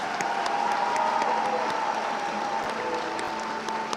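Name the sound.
applause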